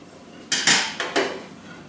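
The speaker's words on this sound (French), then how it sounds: "ensuite, je vais râper la courgette." A courgette being grated for a chocolate cake, heard as four quick, close scraping strokes against a metal grater in a short burst with no talking.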